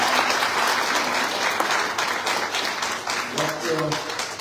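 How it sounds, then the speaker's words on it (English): Audience applause at a university graduation ceremony, a dense steady clapping crowd sustained throughout, with faint voices underneath near the end. "You can give applause for that."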